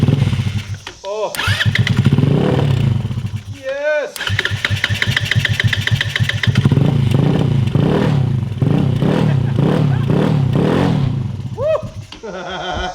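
A home-built truck nicknamed the Metruckus cranks in short bursts, then catches on its first start and roars into loud, rough revving and idling, with excited voices shouting over the engine.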